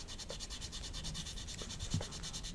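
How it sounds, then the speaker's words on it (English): A sanding buffer rubs over the fuselage of a 1/32 Zoukei Mura Bf109G-14 plastic model aircraft, a faint, steady rhythmic scratching in quick repeated strokes, heard alone. "Just polishing the fuselage back up with a sanding buffer."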